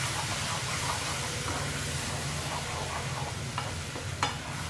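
Tomato pulp is stirred into a masala in a pan for Kolhapuri paneer masala, giving a steady close sizzle and hiss with soft scraping strokes and a couple of sharper utensil taps near the end.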